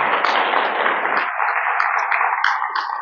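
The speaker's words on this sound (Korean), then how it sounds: "박수 한번 쳐주세요" An audience in a Buddhist temple lecture hall at Bulgwangsa claps together during a dharma talk, a dense, steady patter of many hands held evenly throughout and fading slightly near the end.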